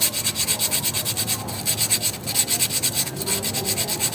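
A file is worked over a sharp edge on a CVT part from a scooter, an Easyride F.I 150. Close and loud, it rasps back and forth in steady, rapid strokes with a regular rhythm.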